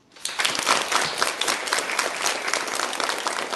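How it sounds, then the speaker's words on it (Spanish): A class claps to welcome a new classmate, a loud, full burst of applause that starts abruptly and carries on steadily, dense and close with no talking over it. "Y vamos a recibirle con un aplauso"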